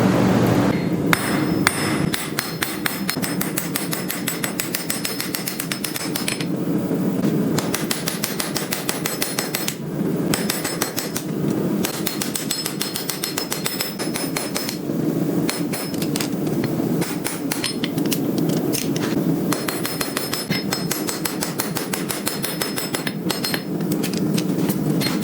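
A blacksmith hammers a chamfer on steel plate, a continuous run of rapid, ringing metallic blows on the anvil, loud and close, with no talk.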